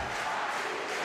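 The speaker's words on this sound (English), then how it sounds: "The Italian crowd getting right behind Alicia Volpi" Italian crowd cheering at a women's foil fencing match in Milan, a dense, loud roar of many voices throughout the short moment.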